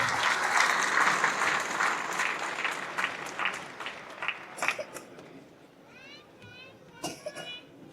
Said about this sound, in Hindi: उन सब के लिए जोरदार तालियां एक बार लगाकर कुछ धन्यवाद देंगे।